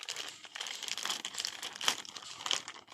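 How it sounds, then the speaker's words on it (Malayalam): Plastic packaging crinkles and rustles up close while a Ferrari car-shaped toy mobile phone is unboxed, in a busy, irregular stream of crackles with no speech. "ഒന്ന് അൺബോക്സ് ചെയ്യട്ടെ."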